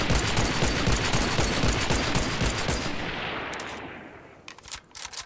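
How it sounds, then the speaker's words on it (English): Rapid volley of gunfire in Fortnite: Save The World, loud and continuous for about three seconds, then fading before a few sharp closing bursts, with no talking. "Bro, check this sniper rifle out."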